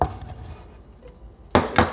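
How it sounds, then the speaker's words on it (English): A knife splitting an onion on a cutting board, heard as two sharp, close knocks near the end after a quiet stretch. "Let's start by splitting and slicing an onion."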